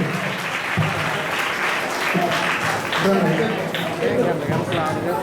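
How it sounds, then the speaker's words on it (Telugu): A crowd claps steadily at a Christmas celebration service in Rajahmundry, loud and sustained throughout with voices mixed in. "చప్పట్లు కొట్టాలి."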